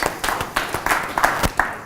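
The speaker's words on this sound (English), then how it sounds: "let's give Luke a round of applause" A small audience at a talk on strength and rehab claps for a guest, a brief round of quick, scattered hand claps in a room.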